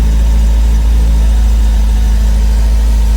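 An MGB GT engine idles close and loud after starting, a steady low rumble with a constant droning hum and no voices over it.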